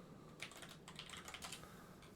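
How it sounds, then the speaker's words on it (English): Computer keyboard typing on a stream, quick irregular key clicks, quiet and close, running steadily over a low background hum. "my keyboard's gonna be super loud on here"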